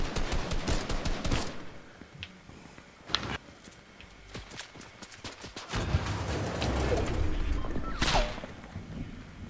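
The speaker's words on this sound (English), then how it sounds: "Now they're shooting." Video game gunfire crackles in scattered sharp bursts, a quick volley at the start, isolated shots in the middle, then heavier rumbling fire with another sharp crack near the end, fairly quiet overall.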